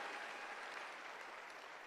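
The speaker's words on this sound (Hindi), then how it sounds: "एक बार जबरदस्त तालियां इन सब लीडर्स के लिए" Applause from an audience at an Amway executive diamond event, a brief, even patter of many hands clapping at moderate volume with no voices over it.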